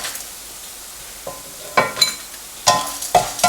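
Lentils and dal dry-roasting in a pan for vangibath, with soft rattling and a few sharp scrapes and shuffles as they are stirred, close and intermittent against near silence.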